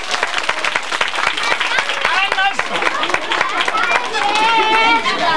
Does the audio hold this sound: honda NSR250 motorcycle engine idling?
no